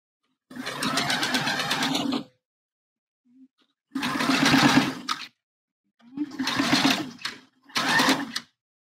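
Sewing machine stitching a bra seam in four close bursts, the first and second longest, separated by short pauses with a faint click in one gap.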